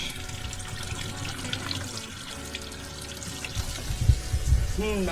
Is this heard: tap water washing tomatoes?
yes